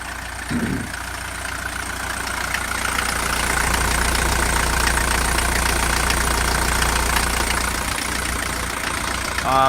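A Mercedes-Benz 240D W123 diesel engine idles steadily and continuously, a low rumbling drone with a faint rattling knock throughout, close by and fairly loud, with no talking.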